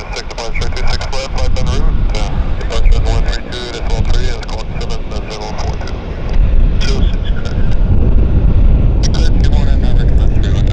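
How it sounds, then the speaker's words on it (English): A Beech 1900 turboprop taxis in at Vancouver airport, its steady loud engine drone and whine running throughout, roughened by wind buffeting the microphone while someone talks over it. "There's that Beach 1900 taxiing in."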